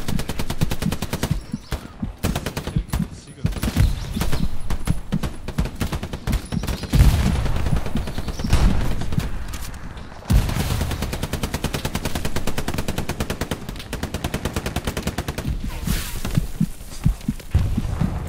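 Dense, loud gunfire and automatic weapon bursts from a Hell Let Loose beach defense battle on Utah, including friendly fire and a friendly grenade, rattling almost continuously with heavy thumps and brief lulls.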